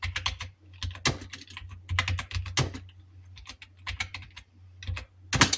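Hindi text is typed on a computer keyboard in a beginner's Krutidev home-row lesson: steady, close bursts of plastic key clicks with short pauses between words.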